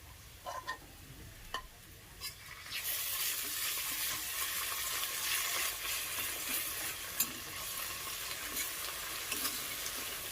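Onion paste goes into a pan of fried onions for chicken masala, a few light clinks and scrapes giving way to a steady, close sizzle with occasional spoon taps as it is stirred.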